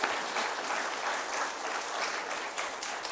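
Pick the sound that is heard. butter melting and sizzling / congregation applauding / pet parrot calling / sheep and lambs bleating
congregation applauding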